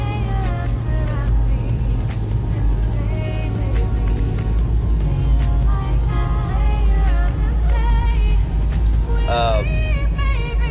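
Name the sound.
2002 Chevy Blazer driving and shifting gears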